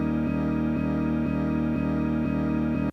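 A single quarter-note slice from a sample, looped so the same sustained tonal chunk repeats about six times at an even pulse, steady and moderately loud, stopping abruptly at the end.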